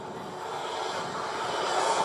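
Boeing Chinook twin-rotor helicopter at the ILA Berlin air show during an external load handling demonstration, a steady broadband engine and rotor roar that slowly grows louder, with no voices.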